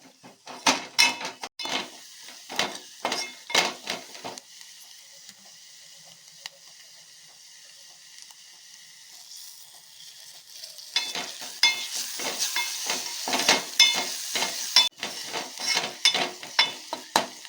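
Crab is fried and stirred in an onion masala in a crab curry, with a rhythmic scraping and clattering of a spatula against the pan over a soft sizzle. Stirring pauses into a quieter simmer before the scraping resumes.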